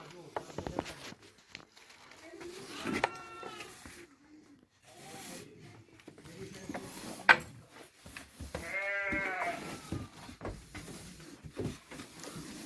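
Rams bleat twice, separated by a pause, amid rustling and handling noises with some talk in the background.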